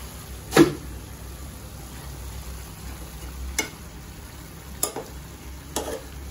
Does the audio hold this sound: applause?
no